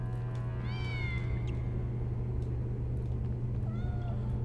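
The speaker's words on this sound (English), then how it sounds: "Kitty! I found the kitty." Meowing from a cat in the PlayStation video game Harry Potter and the Sorcerer's Stone: two drawn-out, rising-and-falling meows, one early and one near the end, over a steady low hum of game background.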